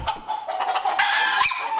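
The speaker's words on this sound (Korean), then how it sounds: "닭 좀 잡아줘." Chickens in a livestock shed cluck and squawk loudly and continuously, a dense, agitated flock heard up close as they are chased to be caught.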